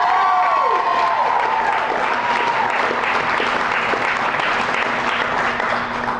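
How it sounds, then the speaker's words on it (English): A crowd applauds and cheers steadily at a kickoff for a Rockin' for the Troops 2009 ticket sale, the dense clapping loud and continuous throughout, with a few whistles early on. "we got a cheering section here"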